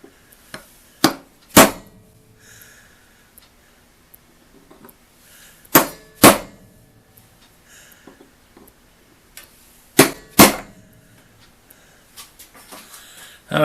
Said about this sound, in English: the center punch.